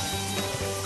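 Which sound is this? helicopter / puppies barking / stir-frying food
stir-frying food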